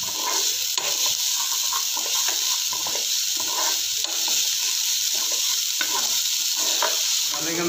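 Mushrooms with basil leaves are tossed in a hot pan, giving a steady loud sizzle overlaid with rhythmic stirring and shaking scrapes, close up and without talk.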